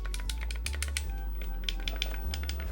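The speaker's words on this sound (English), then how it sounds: "these buttons are real clicky" Clicky face buttons on a Retro Fighters Striker DC gamepad pressed in quick irregular bursts, crisp close taps over a low steady hum, with no one speaking.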